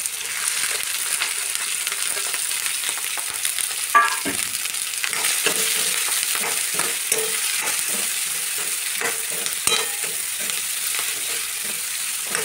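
Capsicum with a little turmeric being stir-fried in a pan, giving a steady close sizzle broken by repeated scraping spatula strokes and a few sharper knocks, with no talking.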